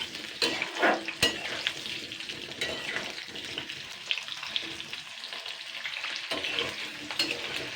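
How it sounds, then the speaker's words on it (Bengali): Potato pieces fry in a pan until reddish-brown for a drumstick and potato curry, sizzling continuously up close while a spatula stirs and scrapes, with occasional clinks against the pan. "আলুগুলোকে কিন্তু লাল লাল করে ফ্রাই করে নিতে হবে"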